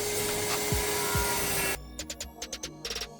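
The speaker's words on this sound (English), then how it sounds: "And then you rip it right down, literally one-handed." A table saw rips a wooden board along its fence while a used door is cut down in a 100-year-old house. A loud, steady cutting roar runs for almost two seconds, then stops, followed by a series of softer knocks and clatters.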